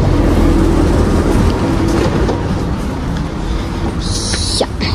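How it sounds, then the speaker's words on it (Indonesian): Interior of a German passenger train, with a steady, loud low rumble and broadband hiss filling the car, a faint hum running underneath, and a brief high-pitched squeal or chime near the end. "Kita masuk dulu ke dalam kereta."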